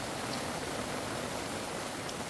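Rain falls steadily on a Kerala home, making an even, continuous hiss with no breaks and no voices.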